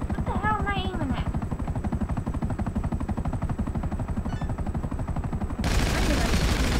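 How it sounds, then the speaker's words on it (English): Rapid machine gun fire from a helicopter in GTA 5, a steady stream of close, rhythmic shots over the rotor drone, with someone talking near the start before the noise swells louder at the end. "Oh, it's a machine gun."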